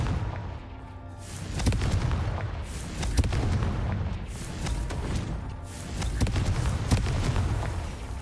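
Confringo fire spells from Hogwarts Legacy explode in a rapid string of heavy booms and bursts, loud and close, with magic effects crackling between blasts and no one talking.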